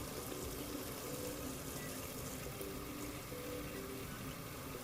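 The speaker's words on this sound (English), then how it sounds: "We go ahead and fill the water, fill the bucket up." Tap water runs steadily into a bucket, a constant broad gushing rush with no breaks, fairly faint, during catheter care preparation, with no voices.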